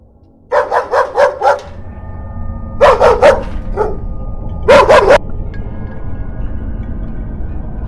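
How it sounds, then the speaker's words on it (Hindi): A dog barks oddly in the dark night, in three bursts of quick, loud yips close by: a run of five, a cluster of three with a lone bark after it, then a final tight group, with a low rumbling background between them. "और ये कुत्ता कब से अजीब से भौंक रहा है,"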